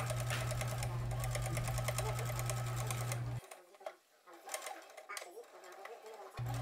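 A sewing machine runs steadily, joining piping and a pocket bag for a jacket 5 mm from the edge, with a loud continuous motor hum for about three seconds before stopping; light handling noises and a brief restart follow.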